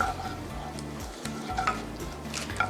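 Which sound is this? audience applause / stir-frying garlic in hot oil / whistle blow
stir-frying garlic in hot oil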